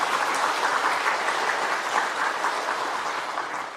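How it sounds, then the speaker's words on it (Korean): A church congregation bursts into loud, dense clapping that holds steady for several seconds before easing slightly at the end, with no talking over it. "우리가 하나님께 감사의 박수 한번 올려드리겠습니다."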